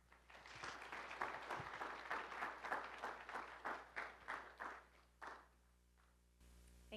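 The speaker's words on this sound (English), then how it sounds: "Please give a warm round of applause to Professor Jennifer Frey." An audience gives a warm welcoming round of applause for a speaker at a humanities lecture, dense clapping that swells, then gradually tapers off and stops, leaving a quiet room.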